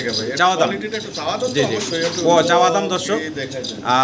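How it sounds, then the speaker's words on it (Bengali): A pair of black checker exhibition pigeons coo in a layered, warbling rhythm, close and fairly loud, with someone talking over the calls throughout. "এখানে একজোড়া এক্সিবিশন কবুতর আছে"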